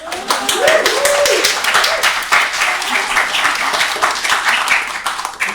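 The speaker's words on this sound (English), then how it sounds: "We're going to have more chances to applaud Laura later" An audience claps for festival dramaturg Laura Lewis, a dense burst of hand applause that carries on steadily and fades slightly near the end, with voices mixed in.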